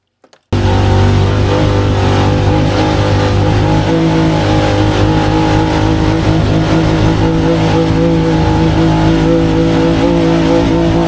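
A Can-Am Talon X side-by-side on 33-inch Aztex XL tires runs downhill in low range around fifth or sixth gear, engine droning loud and close with a steady chattery, rattling vibration after an abrupt start.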